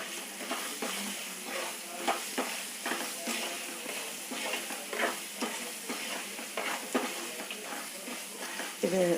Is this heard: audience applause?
no